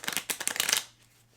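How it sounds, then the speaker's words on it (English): A deck of playing cards is riffle-shuffled once before a card draw, giving a quick burst of crisp fluttering clicks up close that ends in a soft settle, with no talking. "let's just do one more shuffle just to be on the safe side."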